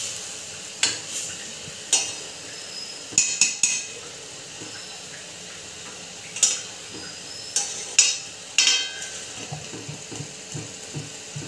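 Eggs are mixed into a spicy green-chilli and fresh-masala egg curry in a pan, with a utensil clinking and scraping against the metal in irregular close bursts over a soft sizzle.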